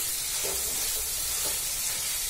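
Green chillies sizzle in hot oil along with onion and tomato for Peshawari chicken, making a continuous moderate hiss with a couple of brief louder bursts and no voices.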